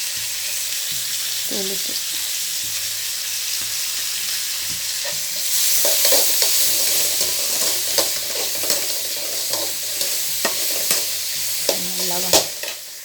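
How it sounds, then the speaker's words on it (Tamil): Tomatoes sautéing with spice powder in a pan for a simple tomato kuzhambu, a steady soft sizzle broken by scraping stirs that grow louder and more frequent later on, with a few brief spoken words. "தக்காளி நல்லா வணங்குவோம்"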